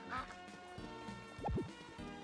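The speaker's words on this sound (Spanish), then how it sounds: "ah, no, un pato." A duck in the farming game Harvest Moon Magical Melody quacks twice in a quick pair over steady game music.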